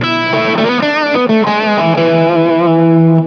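Overdriven electric guitar lead line on an upgraded Harley Benton Telecaster, sustained distorted notes and quick runs, loud and close with no voices.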